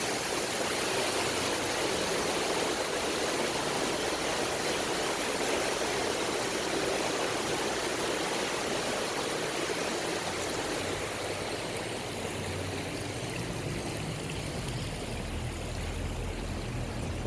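Stream water flows steadily in Plymouth on a cool late-fall day, a continuous broad rushing wash heard nearby with no talk.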